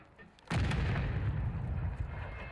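A grenade blast in the Warzone video game on a rooftop goes off suddenly and loud after a quiet lead-in, then a dense rumbling roar fades slowly over the next two seconds.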